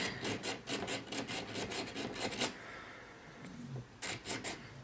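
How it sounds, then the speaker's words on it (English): A Polychromos white colored pencil is rubbed back and forth on a sandpaper block in quick, rhythmic rasping strokes, close and fairly loud, pausing briefly before a final burst of strokes. "I've just sharpened that on the sandpaper block"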